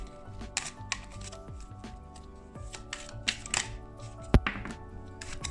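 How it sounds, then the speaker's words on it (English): A Morgan Greer tarot card deck riffled and shuffled up close, crisp flurries of flicking and tapping with a sharp snap near the end, no talking. "I love the sound of shuffling cards"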